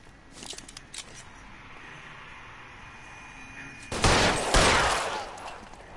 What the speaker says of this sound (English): Oh crap, getting into a shootout.